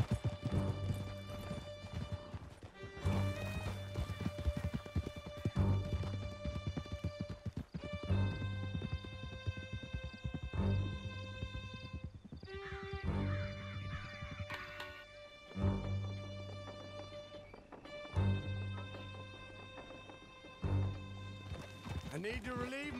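Horse hooves clip-clop steadily while riding in Red Dead Redemption 2, a regular rhythmic trot close by with occasional whinnies, and people talk over it throughout.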